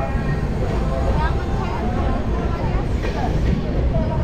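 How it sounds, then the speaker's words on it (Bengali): A passenger train pulls out of Barsoi station, its broad rolling rumble filling the crowded carriage on the journey between Darjeeling and Kolkata, with voices talking over it throughout. "বারসই থেকে ট্রেন ছেড়ে দিল"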